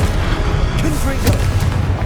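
Confringo blasting spell in Hogwarts Legacy, a heavy booming blast with a sharp crack near the middle over a steady low rumble, with a voice talking alongside.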